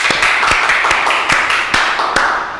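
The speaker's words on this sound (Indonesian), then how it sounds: "sekali lagi tepuk tangan untuk Pak Andi dan Pak Chandra" A small audience at a university counselling-programme talk claps for the two guests, a handful of distinct claps in an uneven rhythm close to the microphone, brief and fading after a couple of seconds.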